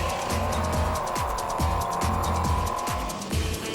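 A 2006 Baja 500 trophy truck roars loud and close from the driver's seat, its engine droning steadily while repeated downward pitch sweeps mark gear changes and clattering rattles run through the whole stretch.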